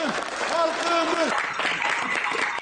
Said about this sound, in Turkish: Alkışlar, ıslıklar, kornalar,